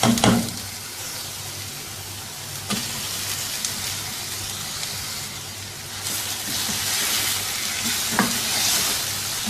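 Loud, continuous sizzling of chicken marinated in garlic and ginger paste frying in a pan, with occasional sharp clanks and scrapes from stirring.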